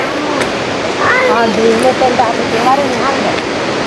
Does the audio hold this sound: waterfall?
yes